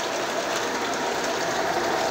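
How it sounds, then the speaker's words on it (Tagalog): Heavy rain pours down steadily, a dense continuous hiss of drops on surfaces, close and even throughout with no voices. "lumakas ulit yung ulan"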